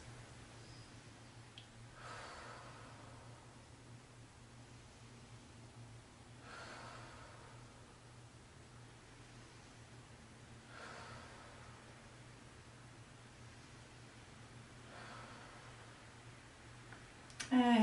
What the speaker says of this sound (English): And taking 4 more breaths.